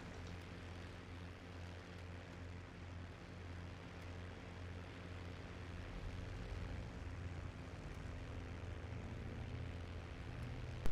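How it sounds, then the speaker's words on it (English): Steady drone of a P-51D Mustang's propeller engine in the IL-2 flight simulator, with a constant low harmonic hum and broadband roar sustained throughout, building slightly in loudness toward the end. "I'm taking off with 2 other P-51s"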